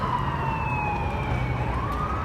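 A wailing emergency siren sweeps up and down at a moderate distance over steady traffic rumble.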